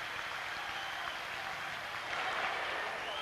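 Sustained crowd applause at a professional tennis championship match, a dense steady patter of many hands clapping throughout, swelling slightly toward the end.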